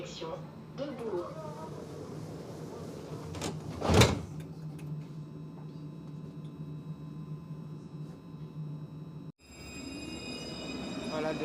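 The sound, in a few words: tram departing, Lyon TCL tramway T1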